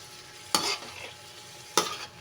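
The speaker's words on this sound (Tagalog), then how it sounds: "Ilagay na rin natin yung pechay niya para maluto na rin. Tapos haluin lang para maluto na bahadya" Pechay greens are stir-fried in a pan of lomi noodles, a quiet sizzle punctuated by two sharp scraping bursts of a utensil turning the food, close and without speech.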